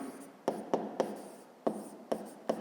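Pen writing in a notebook during a 5th-grade math exercise, a run of short scratchy strokes with pauses between them, close and quiet.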